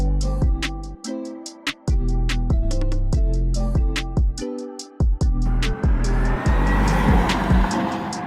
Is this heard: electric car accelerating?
yes